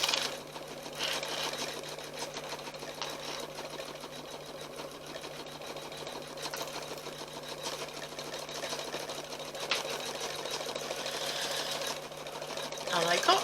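An embroidery machine runs at its slowest speed stitching out a mug rug, giving a steady, continuous mechanical whir with fine rapid needle ticking throughout, moderately close and alone.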